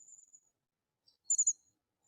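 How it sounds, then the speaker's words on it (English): Small flocking birds in a marsh give a few high, thin chirps, a faint call early on and then a closer cluster of three quick bright notes, with silence between. "these are those little tiny birds we saw. So you can hear that, you can hear the little cute sound they make"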